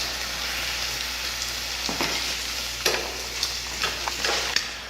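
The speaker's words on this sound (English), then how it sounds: "the bacon is cooking" Bacon sizzles and crackles steadily in a pan on a hot Kitchen Queen wood cook stove, with a dense continuous fry broken by a few sharper pops and ticks, close and moderately loud, no voices.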